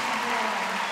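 A crowd at the CrossFit Games cheers and applauds in a loud, dense, sustained roar that fills the whole moment without break.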